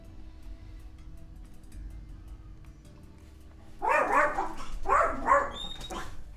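Several agitated dogs bark in quick clustered bursts, fairly close and loud, after a few seconds of low background hum; two main volleys of overlapping barks follow one another.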